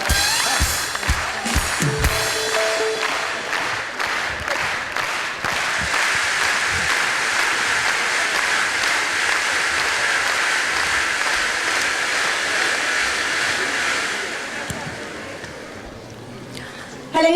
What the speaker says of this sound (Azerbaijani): Yaxşı alqışlar